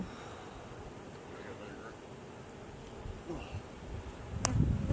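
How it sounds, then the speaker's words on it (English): Honey bees at an open hive during a full inspection of a big hive make a soft, steady buzz that runs throughout, with faint rustling and a louder handling noise near the end. "There's a lot of bees there."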